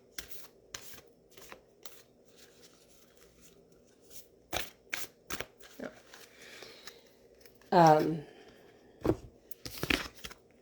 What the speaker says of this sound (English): I'm just going to shuffle one more time and see if anything else wants to jump out.